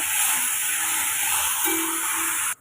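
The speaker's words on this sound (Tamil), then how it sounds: "உப்பு சேர்த்து வதக்கி விட்டுக்கோங்க ரெண்டு நிமிஷம் வதக்கி விட்டுருங்க" Vegetables with cauliflower and salt sauté in a pan, giving a steady close sizzle and hiss that ends abruptly, with a faint low tone near the end.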